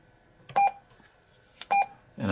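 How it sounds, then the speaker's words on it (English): Two short electronic Roger beeps from a President Walker II CB radio sound about a second apart, each a crisp double tone against near silence, close and clear. "There's a little Roger beep."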